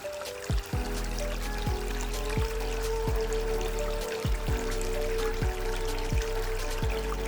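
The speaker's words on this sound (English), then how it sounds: "this is an 1100 gallon pump. I should be somewhat be able to crank it right up" An 1100 gallon pump drives water through a multi-sluice used for gold prospecting, giving a steady rushing pour over a constant mechanical hum, with no voices.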